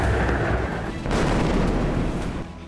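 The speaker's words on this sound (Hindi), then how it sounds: "इजराइल की सड़कों पर ऐसी तबाही मचाने वाले रॉकेट लॉन्चर का वीडियो भी सामने आया है।" A Hamas rocket launcher firing on the streets of Israel, a heavy, booming roar of launches rolling into a sustained rumble with a second blast midway, loud and close.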